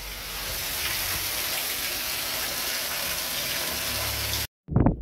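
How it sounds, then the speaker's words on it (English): A waterfall on the Fylde coast heard from close underneath, a loud, steady broadband rush of falling water that runs continuously before cutting off abruptly near the end. "Oh, round underneath the waterfall."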